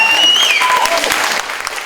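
Audience applause at a town selectmen's debate, a loud continuous wash of clapping with a whistle-like tone rising and falling over it early on, fading slightly toward the end.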